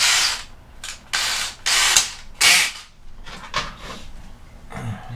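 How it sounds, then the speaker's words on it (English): A screw being driven with a power drill to mount a vintage door handle on a wood camper, heard as several loud bursts of drill whine with brief pauses between them, then softer ratcheting and mechanical clicks. "Get the first screw in there"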